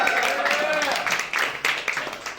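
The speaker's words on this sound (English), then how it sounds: "Applause!" A game show studio audience claps steadily, a brief burst of applause with scattered cheering mixed in.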